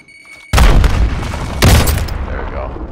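A grenade explosion in the Call of Duty Warzone video game, with a sudden loud boom and then a second blast about a second later, each fading into a rumbling tail.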